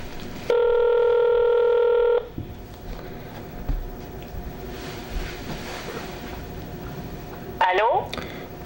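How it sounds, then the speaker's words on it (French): A telephone call on speakerphone: a steady multi-tone dial tone sounds for about two seconds, followed by a quiet stretch of room noise, and then a short burst of touch-tone dialing beeps near the end. "on téléphone. On va mettre ça sur le haut-parleur."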